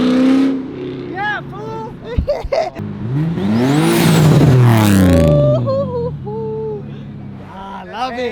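At a car show, a car engine revs hard, climbing to a loud, sustained roar and then dropping back in several sharp blips, with a short spoken exclamation near the start.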